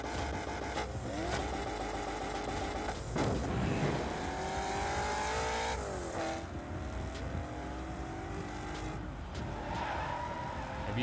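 A Dodge Challenger R/T in the racing game F&F Takedown revs hard with rising and falling engine pitch, tire squeal and skidding, loud and continuous throughout.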